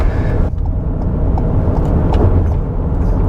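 A 2021 Ford Bronco Sport Big Bend Edition engine roars steadily at high revs, loud and close, with a low droning strain throughout as it struggles to accelerate.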